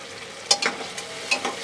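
Khichuri with salt and turmeric is stirred in a hot pot, producing a soft sizzle broken by a few quick scraping strokes of the spoon, close up and without talk.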